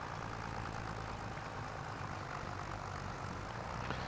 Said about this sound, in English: So it got a 125 horsepower on our tractor, so this will pull nicely.